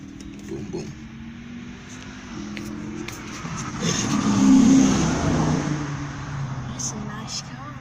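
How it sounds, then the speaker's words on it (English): A modified Honda Accord's engine revs up and swells to a loud peak mid-clip before easing back, heard from inside or near the car with a low steady drone underneath. "That's a nice car."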